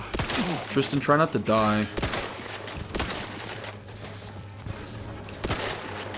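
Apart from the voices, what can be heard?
rifle gunfire in video game The Outer Worlds 2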